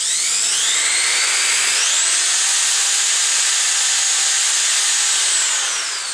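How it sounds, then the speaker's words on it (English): A power drill bores a hole in a wooden wool-clothing drying rack, its loud, high whine rising in pitch as it bites in, holding steady for several seconds and then tapering off. "And drill through a little bit."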